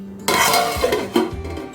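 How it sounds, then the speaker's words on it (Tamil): Metal lid set down on a pot of simmering chana masala in a home kitchen: a close metallic clink followed by a couple of lighter rattling taps as it settles. "இப்போ நம்ம மூடி வச்சு நல்லா கொதிக்க விட்டுறலாம்"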